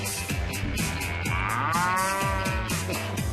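At a Baltimore–Boston baseball game, fans imitate cow moos in a mooing contest. Each voice gives one long, loud, bending moo over the noise of a big stadium crowd, which cheers in rhythmic bursts.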